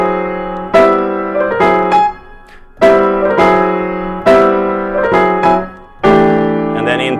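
Jazz piano plays a common tune introduction as a series of loud, ringing chords struck one after another with short decays, close and clear, with no voice.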